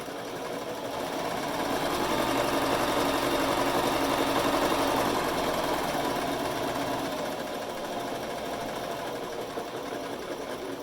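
A sewing machine runs continuously under foot-pedal control, its motor whirring and needle clattering as the speed swells in the middle and eases off toward the end, close and alone with no talk.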